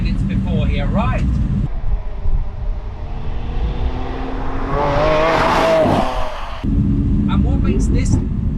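A Lamborghini Aventador SV engine heard from the cabin, a loud rising rev building to a high wail before dropping back to a deep rumble, with a voice talking over it before and after.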